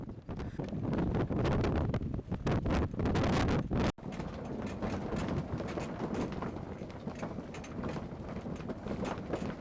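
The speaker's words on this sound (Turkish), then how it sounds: "Rüzgara daha ne kadar direnir bilmiyoruz ama bize iyi bir sığınak oluyor" Strong wind on Mount Ararat roars and buffets the microphone continuously, gusting harder in the first few seconds with rough, rumbling bursts.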